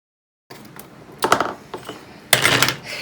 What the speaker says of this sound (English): I'm gonna measure that out now and cut it with my X-Acto knife.